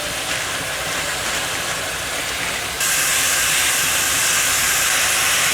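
Ground pork with minced garlic sauteing in a pan, a dense, loud hiss that steps up suddenly partway through and holds at the higher level.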